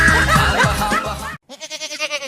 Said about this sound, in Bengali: এই শিক্ষিত ছাগল কিনে নিয়ে যান